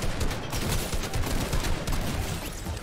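Rapid bursts of gunfire in the Fortnite video game, dense and loud, with shots crackling in a fast, uneven rhythm across the whole short stretch.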